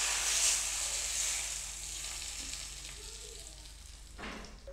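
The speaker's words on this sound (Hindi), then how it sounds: "अब हम इसको अचार के ऊपर तड़का लगाएंगे।" Hot curry leaf tempering poured over instant vegetable pickle, giving a bright, loud sizzle that fades to a steady crackling fry over several seconds, with a faint clink near the end.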